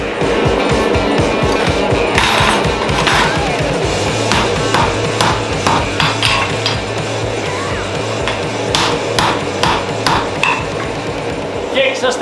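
Hammer blows on hot steel at a forge while forge welding a multibar seax, a dense run of sharp metallic strikes over a constant roar from the fire and blower.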